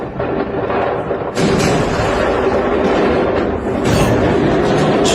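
Continuous heavy booming and crackling bursts, loud and dense, rolling one into another without pause.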